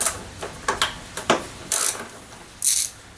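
A ratchet wrench working 10mm nuts off the top of a lawn mower, close and fairly quiet, sounding as a few separate clicks followed by two short bursts of rapid ratcheting.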